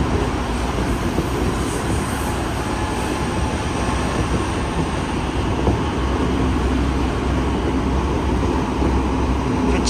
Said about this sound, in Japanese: 地下鉄の車両でも結構なんか頑張って速度出してますよね